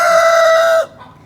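A rooster crows once, loud and close, a sustained strained call that cuts off abruptly, leaving quiet.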